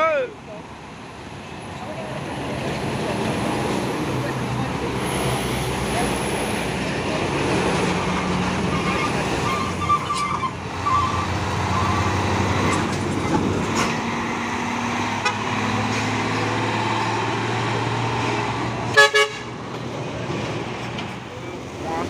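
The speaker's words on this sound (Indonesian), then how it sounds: "Wah, masuk lagi nih truk pusu ini, dan di belakangnya juga ada truk kanter" Canter trucks pass along a road, giving a continuous loud engine rumble and road noise with short horn toots and a sharp clank near the end.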